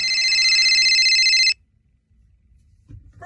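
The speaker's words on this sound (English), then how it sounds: "He's getting a phone call." A telephone rings loudly and steadily for about a second and a half, then cuts off into near silence before a faint rustle and the start of a voice at the end.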